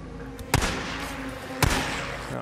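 Gunfire in the video game Days Gone, two sharp loud shots about a second apart over a steady background of game ambience.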